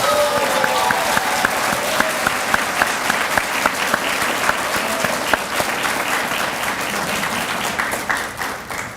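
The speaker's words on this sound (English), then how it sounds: "let's give another round of applause to all the people" A graduation audience for a law enforcement training class gives a sustained round of applause, dense and steady throughout, with crowd noise mixed in and a few clap hits standing out near the microphone.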